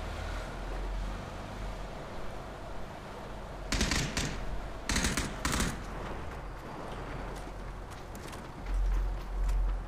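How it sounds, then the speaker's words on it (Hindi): Gunfire in the video game PUBG: a few bursts of shots at mid distance, one short cluster followed by two more close together, over a steady low background rumble with no talking. "बंदा जैसा फायरिंग कर रहा है वो तो"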